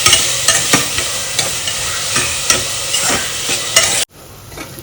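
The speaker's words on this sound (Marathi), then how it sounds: "कांदा चांगला आपल्याला नरम पडेपर्यंत शिजवून घ्यायचा आहे." Chopped onion sizzling steadily in hot oil in a pan while a spoon stirs it with periodic scraping strokes, loud and close, no voices, sound cutting off abruptly near the end.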